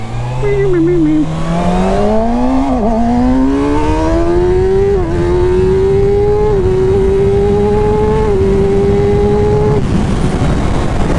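A 2019 Kawasaki ZX6R motorcycle being ridden, its engine loud and close as it revs up through rising pitch sweeps with short dips at gear shifts, over continuous wind rush.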